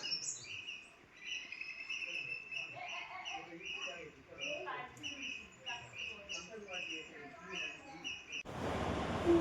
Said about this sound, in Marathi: दुपारची शांतता आणि पक्ष्यांचे आवाज